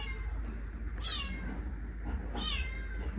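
A cat trapped down a well gives two distinct meows about a second apart, faint and echoing over a steady low hum, with no talk.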